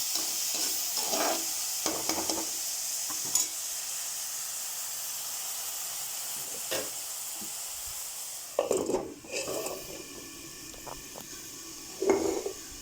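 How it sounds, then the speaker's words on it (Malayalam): Snake gourd thoran cooking covered on a low flame gives off a steady soft sizzle and hiss, with a few scattered clinks and stirring knocks and a louder clattering burst near the end. "ചെറുതീയിൽ അത് കിടന്ന് വേവട്ടെ."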